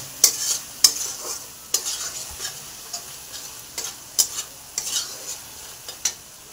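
Spices with Kashmiri chilli and shahi garam masala being stirred in a pan, a spoon clicking and scraping in a steady irregular rhythm over a soft frying sizzle, close up with no talking.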